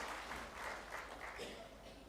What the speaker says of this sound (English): A huge round of applause for convening this momentous